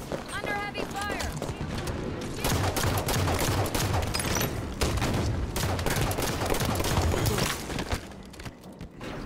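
Heavy, continuous gunfire from a multiplayer shooter game, dense bursts of shots and impacts running loud throughout, with players talking over the din.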